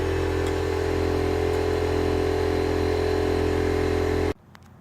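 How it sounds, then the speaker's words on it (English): A die grinder cuts through an exhaust bracket on a Volvo V70 2.4, giving a loud, close, steady high whine with a droning hum under it that stops abruptly near the end. "here I use a die grinder to cut through the bracket rather than take the bolts off"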